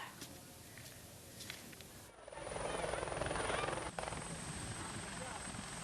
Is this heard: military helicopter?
yes